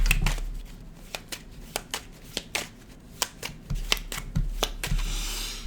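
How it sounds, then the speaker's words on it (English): Tarot cards are shuffled by hand, with repeated crisp riffling snaps in an uneven rhythm, close and fairly quiet, with no talk. "One more shuffle."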